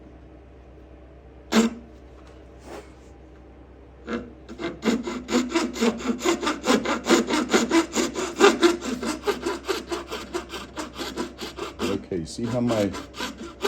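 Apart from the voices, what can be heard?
hand sawing wood with a gents saw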